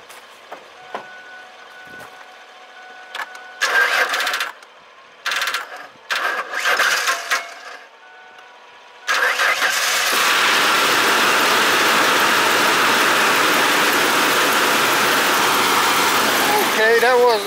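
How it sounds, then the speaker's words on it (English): A car engine with a weak battery cranks in cold weather in short, loud bursts with pauses between, then catches and settles into a steady, loud idle. A voice speaks briefly near the start. "So let me see if this thing's gonna crank or not."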